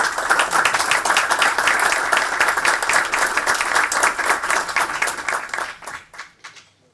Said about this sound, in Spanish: Fuerte el aplauso para ustedes.